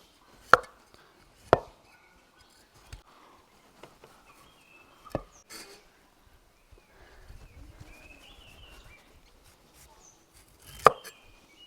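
Beetroot being peeled and cut on a board for ABC juice: sparse, sharp knife chops and taps at irregular intervals, with soft scraping and rustling in between, close and fairly quiet.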